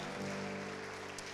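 A church congregation applauds during worship, a dense wash of many hands clapping together, moderately loud and close, with a sustained tonal hum from music or an organ underneath.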